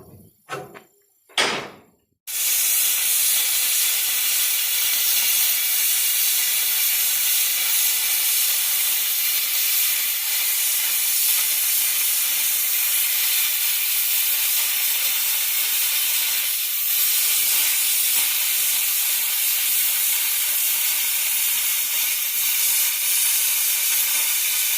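Metal stock being cut to length for a trailer gooseneck: after a few short clanks, a loud, continuous abrasive hiss of a cutting tool runs on steadily for over twenty seconds, close and sustained with slight variations.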